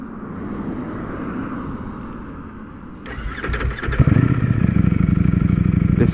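A 2020 Ducati Streetfighter V4 S motorcycle with stock exhaust cranks and fires up around the midpoint, then settles into a loud, throbbing idle with a few revs.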